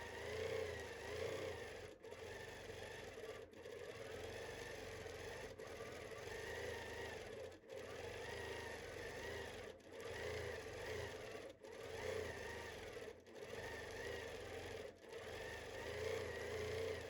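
A Handi Quilter Infinity longarm quilting machine stitches in a steady, close, continuous whir, interrupted by brief regular gaps roughly every one to two seconds as the needle pauses and resumes.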